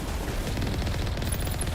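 Gunfire in Mass Effect sounds as a steady, rapid rattle of weapon shots that runs without a break through the short stretch, with no voices over it.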